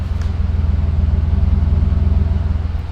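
Old car with a 3100 V6 engine idling smoothly, a steady low pulsing throb close up with an even rhythm and no other sounds.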